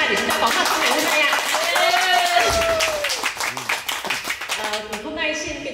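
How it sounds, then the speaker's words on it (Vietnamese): A class at a reunion in Dak Lak claps along under loud overlapping voices and cheering, with the clapping growing more distinct toward the end. "chúng ta hãy dành một tràng pháo tay thật lớn cho sự cố gắng của chúng ta"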